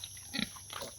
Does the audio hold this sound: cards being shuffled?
no